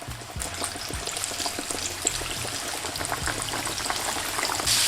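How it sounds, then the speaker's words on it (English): Crispy chicken burger pieces dropped one or two at a time into hot oil, giving a steady, close bubbling and sizzling with dense crackle throughout and no voices. "And into the hot oil. Just keep it there for a few seconds and drop that in."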